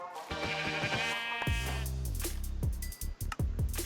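Sheep in a Minecraft survival game give several bleats, the first long and wavering, then shorter calls, with game sound effects mixed in, clear and close with no talking.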